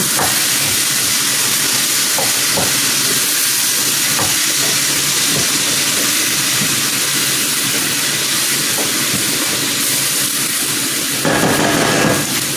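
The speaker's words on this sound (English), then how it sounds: "So I'm just gonna stir this in and then cover it and let it steam." A steady, loud hiss of steam from rice steaming in a covered pot fills the whole stretch, broad and continuous with faint clicks and knocks underneath; no voices.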